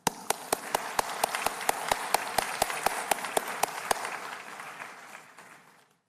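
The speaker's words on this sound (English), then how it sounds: "I ask everyone now to give our graduates a round of applause." Audience applause for graduates at a university convocation ceremony, with a steady run of sharp, evenly spaced claps standing out over the dense crowd clapping for about four seconds before the sound thins and fades away.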